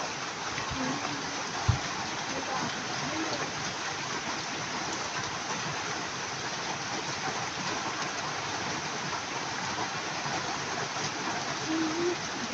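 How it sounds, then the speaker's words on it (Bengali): Heavy rain pouring down near a cattle shed by a rural border area, a dense, unbroken roar of drops that holds steady and loud throughout, with a single sharp knock early on. "প্রচুর পরিমাণে বৃষ্টি আসতেছে গাইস সেই সেই জোরে বৃষ্টি হচ্ছে"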